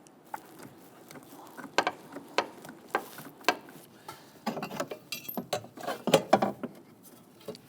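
A ratchet wrench starting a bolt on the valve cover bracket of a 2011-2021 Jeep Grand Cherokee 3.6L V6, quiet irregular clicking bursts with light metallic handling noise, close by.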